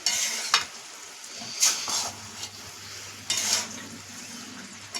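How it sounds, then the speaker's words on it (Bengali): Boiled vegetables for pui pituli are stirred in a pan, giving a few separate scraping clinks of a spoon against metal over a faint background sizzle. "ভালো করে নাড়িয়ে দিচ্ছি"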